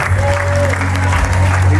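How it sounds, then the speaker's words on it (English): Loud, continuous applause from a crowd, a dense clapping texture over a low steady hum. "Give them a big round of applause."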